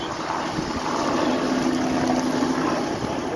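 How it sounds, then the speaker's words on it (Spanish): Helicopter flying over a large house fire in northeast Portland, a steady loud rotor and engine drone holding constant throughout, with no voices. "Oh, miren, amigos, el helicóptero."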